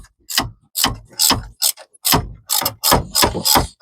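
Loud, close ratchet clicking comes in rapid repeated strokes as a bolt is loosened on a Honda 3.5L engine during timing belt and water pump work. No voices are heard.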